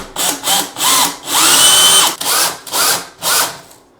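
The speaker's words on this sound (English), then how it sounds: "one end in the drill and doing it that way." A power drill spins up in repeated bursts, whirring loudly with brief pauses between pulses and one longer sustained run, driving a long threaded piece held in its chuck for a DIY floating shelf.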